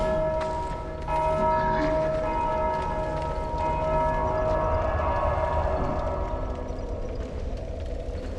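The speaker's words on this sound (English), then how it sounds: "Who rang the goddamn bell?" A large bell in the Dark Souls 2 video game tolls with a deep, sustained ring, its layered tones swelling and lingering loudly for several seconds before slowly fading, with no voices over it.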